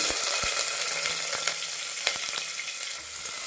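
Sliced onion sizzles and crackles in hot oil with mustard seeds and cumin for vegetable sambar, a close, steady frying hiss broken by a few sharp pops and a stirring scrape.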